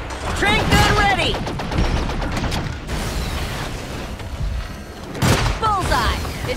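Tranquilizer gun firing in the monster-hunting game Evolve, sharp shots and mechanical bursts amid loud battle noise, with voices calling out over the action.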